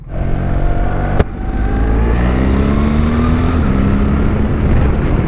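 A BMW R 1300 GS Adventure motorcycle engine runs loud and close, its pitch climbing steadily through rising gears with a short sharp click near the start and smooth quick-shifts.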